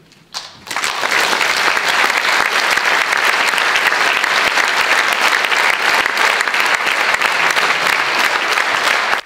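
A large audience at a charity concert breaks into loud, sustained applause that starts abruptly after a quiet moment and continues as a dense, even wall of clapping.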